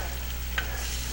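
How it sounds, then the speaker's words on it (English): Hungarian goulash soup is stirred in a pot over low heat, giving a steady low frying hiss with one brief scrape of the spoon midway, close and fairly quiet. "Keep stirring it so it doesn't burn."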